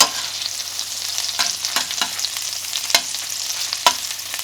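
Saltimbocca with sage sizzling in butter in a frying pan while a spoon bastes it, giving a continuous bright fry with repeated sharp spoon clicks and scrapes, close and loud, with no voices.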